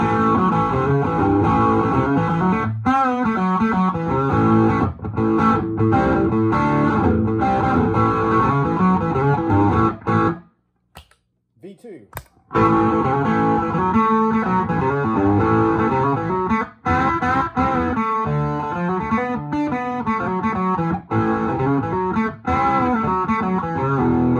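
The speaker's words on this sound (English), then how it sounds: "let's go up on the distortion on both of these" Electric guitar played through a PCE-FX Aluminum Falcon distortion pedal with the gain turned up: loud, continuous, saturated riffs and chords, close and alone, broken by a brief silence partway through.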